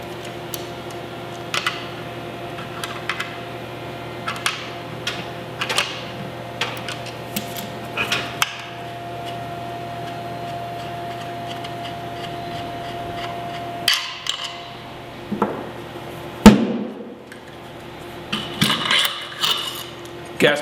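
An AR-style rifle's gas piston is worked loose from its gas block with a small built-in toolkit wrench, giving scattered metallic taps, ticks and scrapes at close range over a steady low hum, with a sharper clack near the end.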